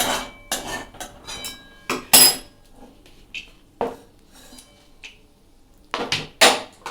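Metal spatula scraping and clanking against a kadai while frying chicken pakora, with sharp intermittent clinks and scrapes separated by short quiet gaps and no talking.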